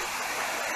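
Arekkal waterfall flowing, a steady broadband rush of falling water heard briefly and fairly faint, with no voices.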